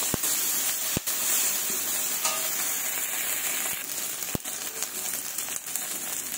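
Salt, turmeric and spices fry with singhi and magur fish in a hot pan, giving a steady close sizzle and hiss with a few sharp clinks of stirring.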